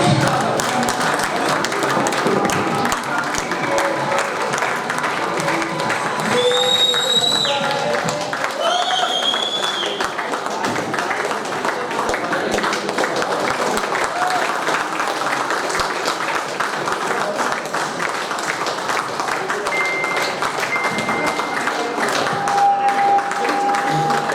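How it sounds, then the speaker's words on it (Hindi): Applause from an audience at a hotel event stage in Agra runs continuously as leaders are called up, steady crowd clapping mixed with overlapping voices and music. "तालियां"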